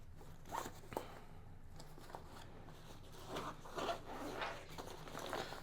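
The zipper on the quick access pocket of a Thule Aion 40L travel backpack is pulled open in several short rasping strokes, close and fairly quiet, with some fabric rustle between pulls.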